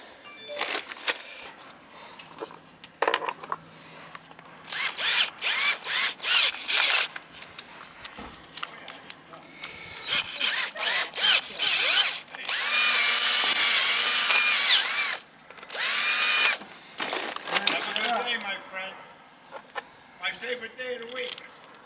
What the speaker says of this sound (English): I might have to drill the hole a little bigger.